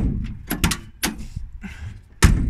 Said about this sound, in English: open and close the door